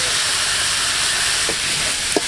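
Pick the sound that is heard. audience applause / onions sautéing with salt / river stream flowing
onions sautéing with salt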